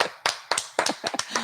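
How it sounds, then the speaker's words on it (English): Two people applaud in a radio show studio, a sparse handful of sharp, close hand claps spaced a fraction of a second apart, with no talk over them. "There's only two of us applauding."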